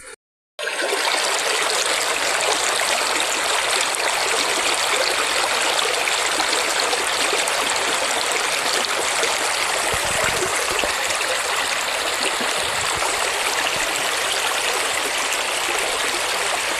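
The Aghanashini river streams and rushes steadily, a loud continuous close-up water flow that starts after a brief silent moment and carries on unbroken.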